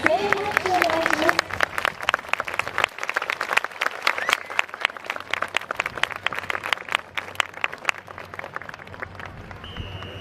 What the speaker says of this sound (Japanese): 今一度、声援拍手をお願いします。